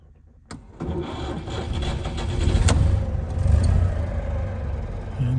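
A 1966 Citroen Ami 6 Berline in rat-look condition cranks briefly and catches, its small engine then running steadily into a rough, throbbing idle, close and alone with no talking.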